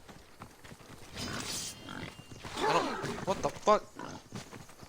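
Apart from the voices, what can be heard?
pig oinking in Assassin's Creed Odyssey video game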